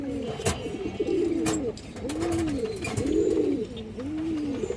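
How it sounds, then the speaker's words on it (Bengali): Pigeons offered for sale give soft, low, rolling coos that repeat about once a second in a steady series. The calls sound close and fairly clear, with faint background noise. "দেখেন মাশাআল্লাহ অনেক সুন্দর কবুতর"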